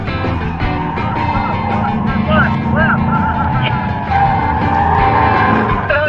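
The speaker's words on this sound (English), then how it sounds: "You have to use more RPMs to get it to stay in that tight circle." A car with very sticky tires circles tightly at high RPM, its engine roaring under a sustained, wavering tire squeal close by, while voices talk over the noise.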